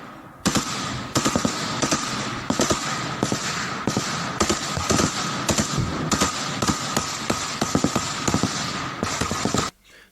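Gunfire during trench combat in Ukraine, likely AK-12 rifles: loud, close, rapid bursts and single shots cracking almost continuously for about nine seconds before cutting off abruptly.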